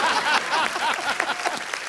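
Studio audience on a TV comedy show clapping steadily, a dense, close wash of applause filling the whole moment without a break.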